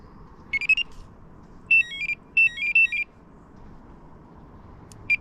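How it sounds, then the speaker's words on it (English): Electronic carp-fishing bite alarm beeps at low volume by a river, in short warbling bursts, a quick cluster then two longer runs, with a lone beep at the end over low background rumble. "I always have the alarms pretty low, don't want to draw attraction to myself."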